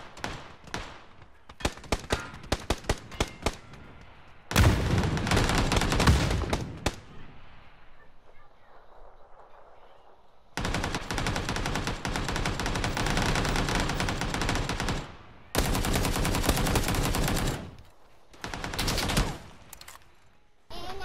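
Gunfire in the PUBG battle royale video game: several sharp single shots, then loud, dense bursts of automatic fire that stop and start again, with a quieter pause between the volleys.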